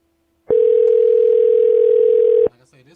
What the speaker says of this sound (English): Fax phone. Hang up on that.